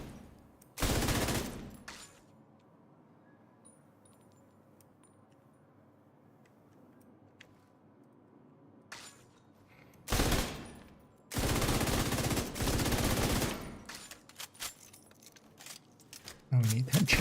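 Video game gunfire from body shots: several loud, dense bursts of rapid firing, one near the start and a longer pair in the middle, separated by quiet stretches with faint background game sound.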